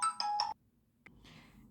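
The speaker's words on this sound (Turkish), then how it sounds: "bir kapı ve telefon çalmasından" A telephone rings indoors with a few short melodic electronic tones, followed by a sharp click and quiet rustling, faint and distant.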